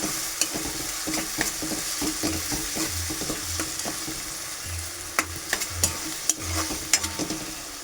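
Onion and tomato sautéing in a pan, with a steady sizzle and a rhythmic run of spatula scrapes and taps while being stirred, close and clear, no talking.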